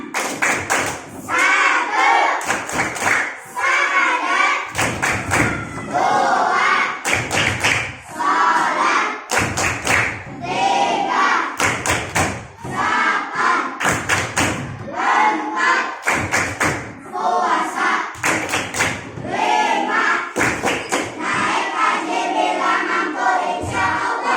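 A third-grade Islamic school class performs the 'tepuk tangan Islam' clapping chant, loud rhythmic clap bursts in repeated patterned sets alternating with children's chanted voices, close and energetic for the whole stretch.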